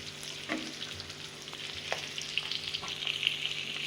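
Fish fries in just a little oil in a pan, giving a faint, steady sizzle with light crackles and occasional soft scraping.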